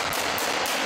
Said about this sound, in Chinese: 真枪实弹打靶，枪声隆隆